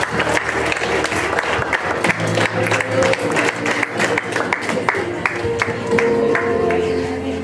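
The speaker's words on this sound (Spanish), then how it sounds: "Un aplauso para ellos." Guests at a quinceañera applaud as surprise godparents enter, a crowd clapping with distinct individual claps standing out over steady party background sound for several seconds.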